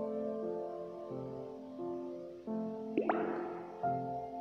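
A single wet water drip in the video game Unwanted Experiment lands partway through, over steady sustained electronic tones.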